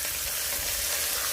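Pork frying in a pan of grease while being flipped for sambal pork ramen: steady, loud, close-up sizzle and crackle with a soft stirring scrape underneath.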